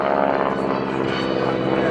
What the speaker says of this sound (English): Joe Fagundes in the Texan directly in front of us and high overhead